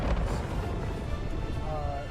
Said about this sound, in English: Like that, and then the Cybertruck explosion.